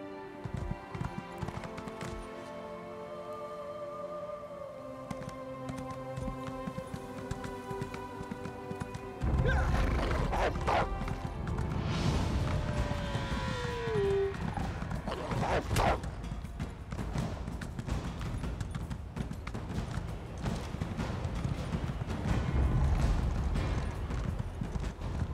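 Horse hooves in The Elder Scrolls Online while riding, first under soft game music and then a steady, close clip-clop rhythm, with a whinny and occasional clashing sounds.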